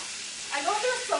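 Pork chops sear in a hot pan, three at a time, giving a steady close hiss and crackle of frying that swells with bursts of sizzle, no voice over it.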